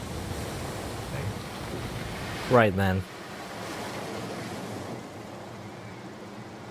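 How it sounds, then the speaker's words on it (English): In the video game Far From Noise, soft ocean surf and wind wash steadily in the background, while someone speaks briefly partway through over the continuous waves. "The ocean's nice."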